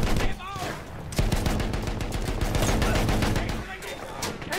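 Loud Battlefield 1 gunfire in a World War I setting, rapid automatic bursts rattling continuously at close range for several seconds.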